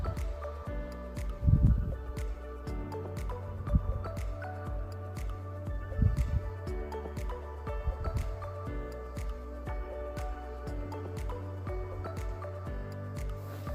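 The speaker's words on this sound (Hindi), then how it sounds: "इसमें साथ ही हम थोड़ा सा पानी भी ऐड कर देंगे।" Water poured into chopped tomatoes in a pan while cooking chana pulao, giving a few brief wet splashing bursts over a steady low kitchen background, with no talking.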